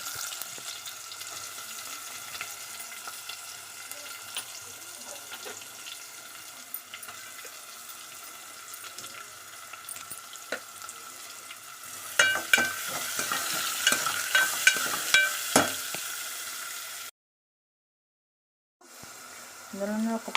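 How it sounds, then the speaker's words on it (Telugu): Onions frying in a pan for paneer curry make a steady, fairly quiet sizzle with repeated spoon scrapes and clanks, louder in a busy stretch near the end, followed by a brief gap of silence. "ఫ్రై అయిన తర్వాత ఆనియన్స్ వేసుకొని ఫ్రై చేసుకోవాలి."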